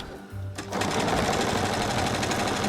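A sewing machine stitches binding onto a quilt, starting with a short burst and then running steadily and loudly for about two seconds with a continuous mechanical whir.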